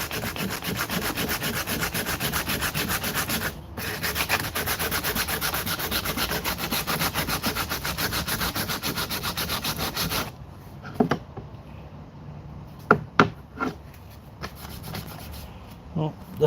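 Coarse 60-grit sandpaper rubbing over wood to strip off tape, a steady close scratching for about ten seconds, then stopping, followed by a few scattered knocks and handling sounds.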